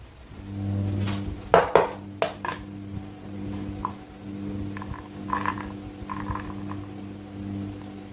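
Peeled garlic cloves tipped from a container onto a plate, a quick cluster of clattering knocks followed by scattered lighter taps over a constant low mechanical hum, with no voices.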